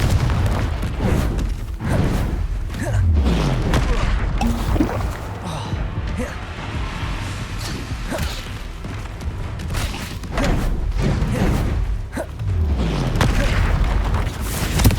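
Confringo fire spell blasts in Hogwarts Legacy combat, booming impacts and whooshes repeating every few seconds amid layered game effects, with a voice shouting spell names over the action.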